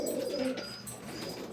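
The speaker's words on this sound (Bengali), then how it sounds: "এরা পায়রা আমার" A pigeon in a home cage coos in a close, throaty roll at the start, then quieter cooing and soft rustling carry on beneath a faint high hum.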